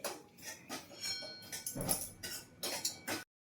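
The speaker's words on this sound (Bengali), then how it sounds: "এবার সুজিটাকে ভালো করে ভেজে নিই" Semolina dry-frying in a pan while a spoon stirs it, producing repeated metallic clinks and scrapes in an uneven rhythm, close and fairly quiet, with no talking.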